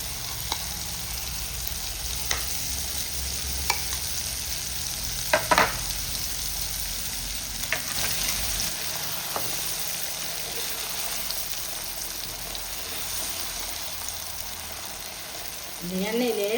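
Pirandai thuvaiyal sautés in hot oil with a soft, steady sizzle, broken now and then by faint scraping clicks of stirring. It is quiet and close, with a brief voice at the end.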